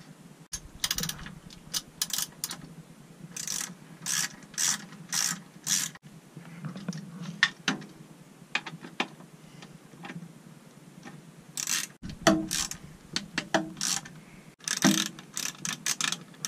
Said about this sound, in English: we'll just put the nuts and washers on